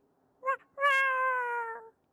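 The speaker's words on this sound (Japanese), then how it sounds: "猫？ なんでダイニングルームに猫がいるんだ？" A cat meows inside a dining room in an audio drama, first a short chirp-like meow, then a long, drawn-out, clear meow, close and alone against silence.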